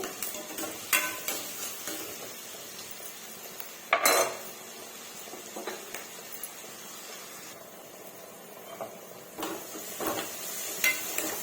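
Onions with salt being stirred in oil in a pan for egg curry, a spoon scraping and clinking against the metal with a faint frying hiss, close and steady, no talking.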